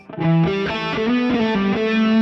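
Overdriven electric guitar, picked lightly on the neck pickup, plays a short melodic phrase with warm, smooth tone, solo and fairly loud.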